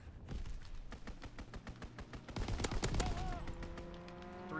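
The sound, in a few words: fighter aircraft strafing gunfire in video game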